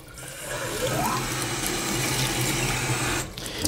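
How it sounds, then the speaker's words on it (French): Hot water gushes steadily from a kitchen tap into a sink after a gas boiler has been descaled, a continuous strong splashing flow that holds close and loud before easing off briefly near the end. "j'ai récupéré le débit eau chaude"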